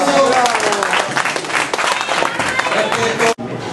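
A crowd claps at the inauguration of a new boxing gym, with dense, lively applause filling the room. Voices call out over the clapping, which cuts off abruptly near the end.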